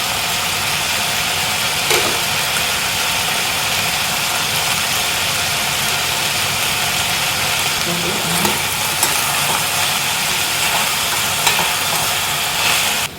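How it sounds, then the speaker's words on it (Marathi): Mixed vegetables with beetroot, red chili powder and salt are sautéed in a pan for pav bhaji, producing a loud, continuous frying hiss with occasional stirring scrapes and no speech. "आता आपल्याला सर्व भाज्या 4-5 मिनिट चांगले परतून घ्यायचे आहेत।"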